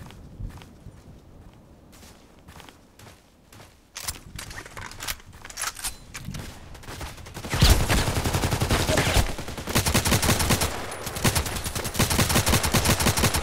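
Gunfire in the online shooter Contract Wars, starting as sparse single shots, then turning into rapid bursts of repeated fire with clattering effects, loud and dense in the second half.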